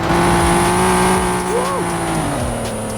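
Car in a racing video game skidding out of control, its engine droning steadily while tires squeal in short sweeping swoops; the sound stays loud and close throughout.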